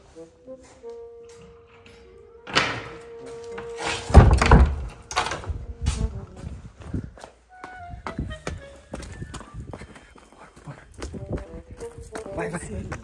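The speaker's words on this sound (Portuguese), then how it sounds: "Só vou fechar essa porta aqui," A door is shut with a solid thump partway through, followed by clattering knocks and footsteps in the room, while people keep talking over it.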